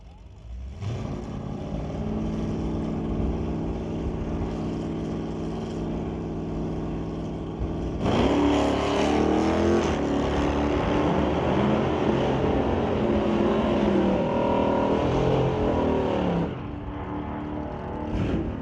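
At a drag strip, a Dodge Dart and a 2005 Dodge Ram pickup idle, then launch together about eight seconds in, a loud, rising engine roar that holds for several seconds before easing back.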